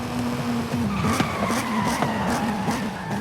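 A car brakes hard with ABS engaged, tires chattering and squealing in rapid regular pulses over a strained engine tone, loud and close.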